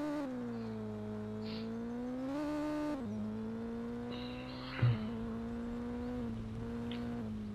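A rally car's engine drones in Colin McRae Rally 2005, its pitch climbing and dropping with gear changes, with one brief knock partway through and no voices.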